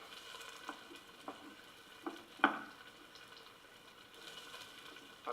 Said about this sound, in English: get the peppers going a little bit here